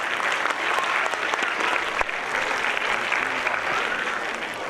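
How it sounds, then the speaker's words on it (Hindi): An audience at a school annual gathering at Surya Urdu School bursts into sustained, dense applause, a loud and steady roar of many hands clapping with no pause. "साबिर भाई की तालियां।"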